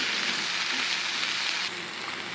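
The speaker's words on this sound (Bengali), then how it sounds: "এই দেখুন চিংড়ি মাছগুলো হালকা ভাজা হয়ে গেছে।" Prawns frying in a pan, a steady, dense sizzle with fine crackle holding close and loud throughout, easing slightly near the end, with no voices.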